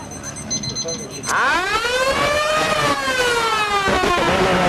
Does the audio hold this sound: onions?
no